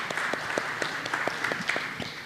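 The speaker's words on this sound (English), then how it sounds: "Can we have a round of applause for Mr." An audience at a digital business forum applauds steadily, a dense patter of many hands clapping at moderate distance without a break, as a guest is welcomed up to the dais.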